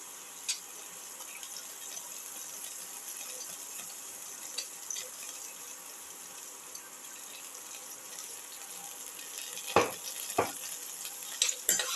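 Shallots and garlic sizzle softly in a pan while being stirred, a low continuous frying hiss with a few sharper clatters of the spoon near the end.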